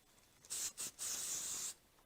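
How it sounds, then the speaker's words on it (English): Three quick hissing sprays from a spray bottle, two short bursts followed by a longer sustained spritz, close and fairly loud, with no talking. "I'm going to use my Pro Spray."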